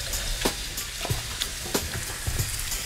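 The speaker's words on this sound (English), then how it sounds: "we're gonna take our steak, just add it right to that pan" Steak sizzles steadily in a hot pan, a continuous close frying hiss broken by several soft clicks and knocks of cookware, with no talk.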